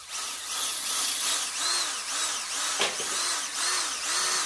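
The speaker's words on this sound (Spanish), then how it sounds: "si tenéis que taladrar un azulejo, tanto si es una broca de vidia como una punta de flecha, lo mejor es hacerlo sin percutor" A power drill with a widia or arrow-point bit bores into a ceramic wall tile with hammer mode off. Its close, steady whine swells up and down in pitch again and again, with no voices.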